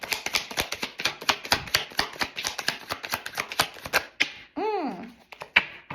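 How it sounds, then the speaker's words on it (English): Tarot cards are shuffled close up in a quick run of crisp riffling clicks, followed by a short slide and a few scattered taps at the end. "I'm gonna do one more shuffle and see what we get"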